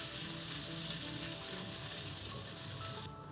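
Beef strips fry in a pan with a continuous soft sizzle, fairly quiet and even, dropping away abruptly near the end.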